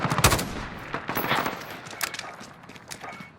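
Grau 5.56 assault rifle fired in a first-person shooter game, loud rapid bursts of automatic gunfire with brief pauses, close and alone without talk.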